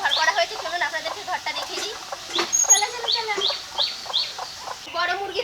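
Chickens clucking and squawking close by in a continuous busy chatter, with some sharper rooster-like calls rising above it, in a farmyard.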